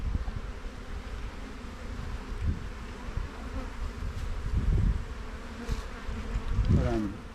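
Caucasian honeybees buzz around an open hive in a bee yard, a dense continuous close drone that swells and fades as individual bees pass near.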